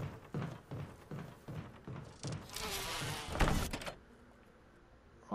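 A door opens in the Resident Evil video game: a string of evenly spaced thuds leads into a loud, scraping swell that peaks and then drops away to a faint hum, with a sharp knock at the very end and no voices.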